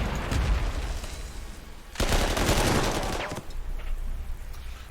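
In Corps 2, a WWII strategy game, gunfire rattles continuously in dense bursts, swelling into a loud, sustained volley midway before settling back into a steady background crackle.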